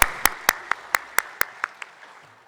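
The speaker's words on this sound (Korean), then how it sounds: "하나님께 영광의 박수를 올려드리겠습니다" A church congregation at a Sunday worship service in Daegu claps together in unison, about nine sharp, evenly spaced claps that fade steadily before stopping.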